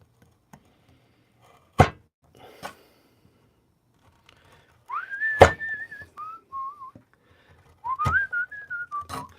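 Someone whistles a short, wavering tune in several phrases, preceded by a few sharp knocks and taps in a quiet room where fingerboards and neck blanks are being worked on.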